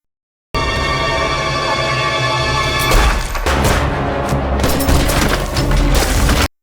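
Combat in a Chinese war film set at Lake Changjin, with American and Chinese soldiers fighting: a loud, sustained roar of battle gives way to a heavy grenade blast and crackling bursts of gunfire.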